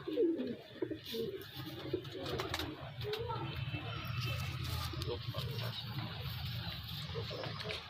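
Teddy pigeons coo in a low, rolling murmur that carries on steadily at moderate volume, with a voice heard briefly near the start.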